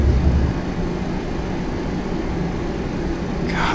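McDonnell Douglas MD-11 cargo jet in Flight Simulator X, its engines spooling up as a steady, broad low roar with a brief brighter swell near the end.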